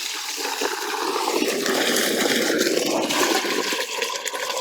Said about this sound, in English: Thing's putting out a ton of water.